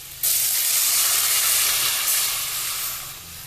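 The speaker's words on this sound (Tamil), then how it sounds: "அரிஞ்சு வச்ச வெங்காயத்தை போட்டு வதக்கணும் இப்போ வெங்காயம் எல்லாத்தையும் போட்டு வதக்கிடணும்" Chopped onions sizzle and hiss steadily in a hot pan while sautéing for an agathi keerai greens broth, a loud, continuous fry starting abruptly and easing slightly toward the end, with no talking.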